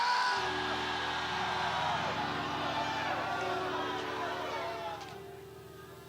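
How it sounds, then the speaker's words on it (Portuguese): A church congregation shouts loudly together at a pastor's sermon, a sustained roar of voices from a large crowd that holds steady for several seconds before tapering off. "Grita, mas grita alto. Grita!"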